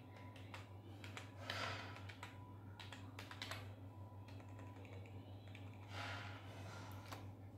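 Quiet, close typing on a computer keyboard while entering text into an Excel spreadsheet invoice: irregular soft key clicks in small bursts over a low steady hum, with no talk.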